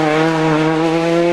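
Skoda rally car at a stage start of the 2004 Lurgan Park Rally, its engine holding a loud, steady high-revving note close by with no break, and no voices.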